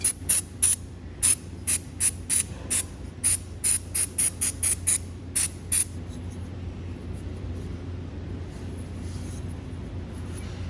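Contact cleaner is sprayed onto motorcycle engine parts during valve clearance maintenance on an airhead engine, in a series of about a dozen short, sharp aerosol bursts that then give way to quieter rag wiping and shop noise.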